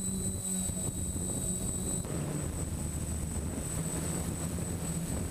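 Continuous whine of a DJI F550 hexacopter drone's motors and propellers cruising forward at speed, with a high steady tone over broad airy rotor noise.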